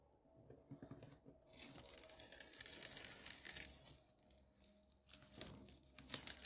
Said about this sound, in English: let's get our tape off